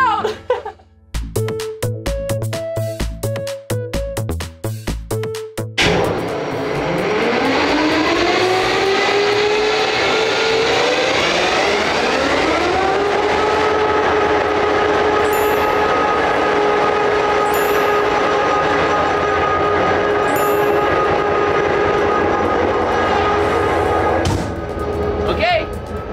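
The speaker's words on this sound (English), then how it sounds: "It gets very loud in here when we start up the engine" A diesel locomotive engine starts up from inside the cab: a burst of clanking and cranking, then a loud roar that rises in pitch and settles into a steady heavy drone, with brief talk near the end.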